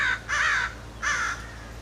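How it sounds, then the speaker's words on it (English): Crows give two loud, harsh caws in succession, with a short pause between them, over a steady low background hum. "many people, they shoo the crows away or see them as pests"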